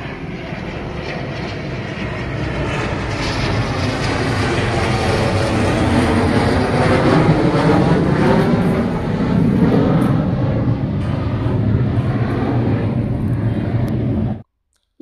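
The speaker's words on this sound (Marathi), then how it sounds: "विमानं इतकं उडतात ना, काही सांगताच येत नाही. पहा आता आणखीन एक यायला लागलेलं आहे," A single airplane passes overhead above a home garden, its broad engine roar swelling steadily over about fourteen seconds and then cutting off abruptly.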